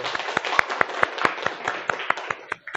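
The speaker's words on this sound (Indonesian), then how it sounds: "Kita beri tepuk tangan untuk kelompok 1." A classroom applauding a student group: a steady run of fairly sparse, distinct hand claps from a small number of people, close and moderately loud, ending with a few scattered last claps.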